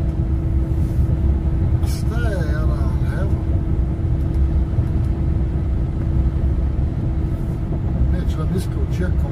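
DAF XG 480 truck cruising on the road, a continuous low engine rumble and steady hum filling the cab while someone talks briefly over it.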